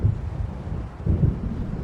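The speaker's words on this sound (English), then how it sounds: "It seems there's a storm coming." Low, rolling thunder rumbles from a storm approaching over the water in the video game Alan Wake Remastered, with two swells of deep rumble over a steady wind-like wash, no talking.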